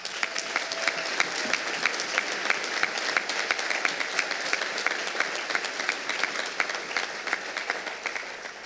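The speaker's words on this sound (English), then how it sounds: "I think he did deserve applause for that." An audience applauds steadily, with dense, even clapping filling the whole stretch at a constant loud level and no pauses.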